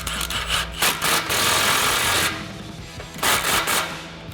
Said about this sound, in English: Grab our impact 13mm socket and tighten that down.